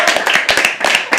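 Steady applause from a live audience at a Hindi poetry reading, dense bursts of hand claps close by and loud, carrying on without pause through the short stretch.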